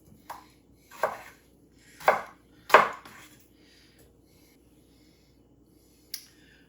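A knife cuts potato slices on a cutting board, four distinct chops spaced about a second apart growing slightly louder, then a pause and one lighter knock.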